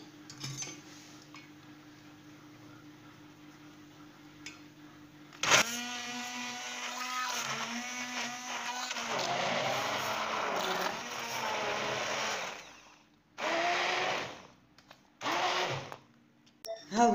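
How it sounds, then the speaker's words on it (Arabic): Electric blender whirring through homemade kabocha squash jam thickened with syrup, a loud sustained grinding run that cuts off, then two shorter bursts, with faint kitchen clatter around it. "ونميكسي."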